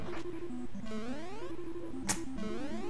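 Chiptune music from the Ice Climber video game plays, with bouncy repeating melodic phrases, rising arpeggio runs and a sharp burst partway through, steady and moderately quiet.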